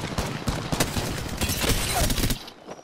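Rapid gunfire in the Apex Legends video game rattles out in dense, repeated bursts for a couple of seconds, then cuts off abruptly into near silence.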